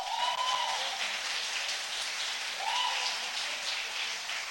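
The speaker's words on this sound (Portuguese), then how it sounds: "Aplauda o Senhor." A church congregation applauds during a Portuguese-language prophetic sermon: steady, dense clapping fills the space with broadband wash, swelling briefly twice, with no speech over it.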